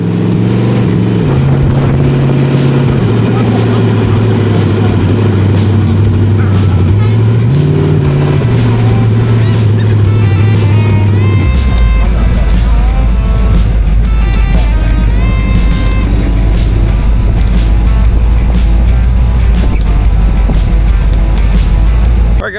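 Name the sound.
Speedway Motors T Bucket hot rod driving on the road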